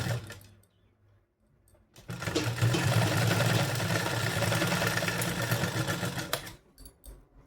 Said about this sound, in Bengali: তো এই বরাবর ধরে এখন আমি সেলাই করে দিচ্ছি।